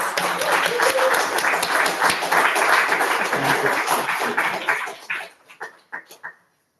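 An audience at a poetry reading applauds to welcome two poets, steady dense clapping that tapers into a few scattered final claps before silence.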